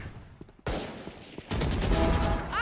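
Rapid gunfire from a tactical shooter match with spikes and smoke, a burst of close, loud shots breaking out midway after quieter scattered noise and continuing as dense fire to the end.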